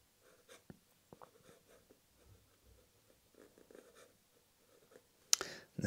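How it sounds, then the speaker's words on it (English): Nakaya Piccolo fountain pen nib scratching across Midori paper in quiet, soft intermittent strokes with short pauses, ending in a sharper, louder rustle or tap near the close. "let's write out the name of the pen"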